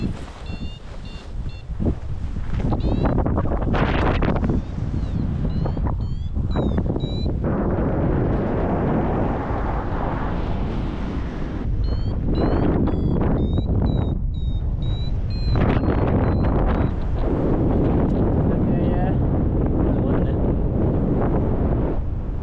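Strong north wind in the Alps roars steadily across the microphone, gusting and buffeting throughout, with faint chirps breaking through at moments.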